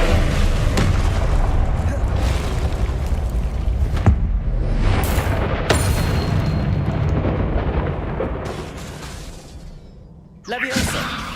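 Blasting spell explosions in the video game Hogwarts Legacy sound as a dense, loud run of booms and bursts, with sharp hits near the middle and a final blast at the end, while a player calls out spell names.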